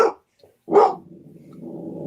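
A dog gives two short, sharp barks nearby, separated by a brief pause, with low background noise hanging on afterward.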